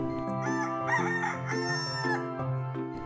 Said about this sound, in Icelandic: Haninn galar.